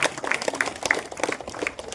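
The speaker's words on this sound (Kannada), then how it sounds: "ಜೋರಾದ ಚಪ್ಪಾಳೆ ಮೂಲಕ ಸರ್ ಅವರಿಗೆ ಸ್ವಾಗತ" Applause greets a guest at a Constitution Day event in a government first-grade college in Kushtagi, a brief scattered clapping from a room of people, moderately loud and uneven over two seconds.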